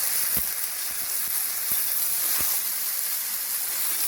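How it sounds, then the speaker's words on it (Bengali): Loud, continuous hissing sizzle of food frying in hot oil on a high flame, punctuated by a few soft knocks and pops. "আমি কিন্তু এই ঘেরাটাকে খুব হাই ফ্লেমে ভেজে নিচ্ছি"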